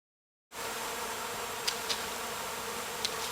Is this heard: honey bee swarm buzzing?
yes